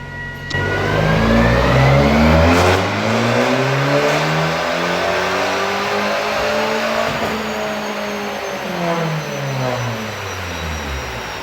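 An Abarth 500 with a T-Jet engine on a dyno after a stage 1 map, revving hard and loud through a long sustained pull, the engine note climbing and sweeping smoothly, close and alone.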